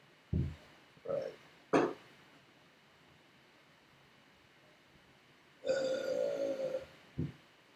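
Three short, abrupt bursts of sneezing in a quiet room, followed by a longer louder outburst and one final short burst near the end.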